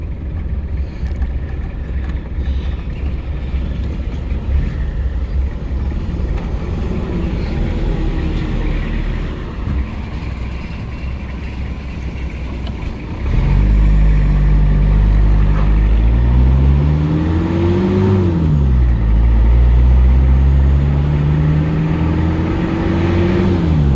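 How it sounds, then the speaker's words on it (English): A 1992 old green truck drives along, its engine a steady low rumble that swells louder midway and rises and falls in pitch as it revs through gear changes, with no talking. "Out driving my old green truck."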